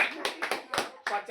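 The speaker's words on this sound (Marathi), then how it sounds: "ए टाळ्या वाजव, टाळ्या वाजव, टाळ्या वाजव." Four sharp hand claps in a loose, uneven rhythm, close and fairly loud, with no talk over them, during a lighthearted guess-the-drink challenge game.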